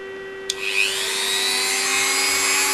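A Dremel rotary tool polishing the wheel pickups of a Hornby model locomotive power bogie: a sharp start, then a steady high whine that rises slightly in pitch and holds, close and alone.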